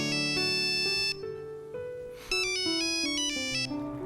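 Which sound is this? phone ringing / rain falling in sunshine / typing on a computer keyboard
phone ringing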